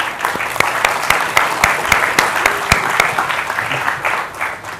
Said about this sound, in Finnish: Annetaan heille aplodit.